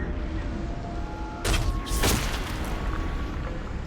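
A video-game explosion in Shadow of War bursts in as a pair of broad booming blasts about half a second apart, loud against steady background game noise.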